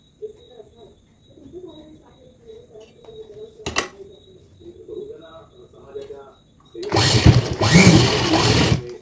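A sewing machine stitching a puffy sleeve onto a white top, a loud steady whirring run near the end after quieter handling and someone talking.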